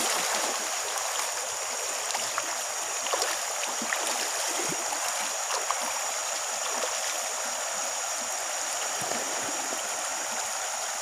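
Fast river current rushing over rocks in a Kalimantan river, a steady broadband wash of water with no talk, holding at an even loudness throughout.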